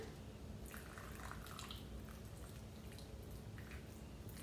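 Water poured onto soil in a small seed pot while regrowing kitchen scraps, faint trickling and dripping patter in short uneven bursts over a quiet background.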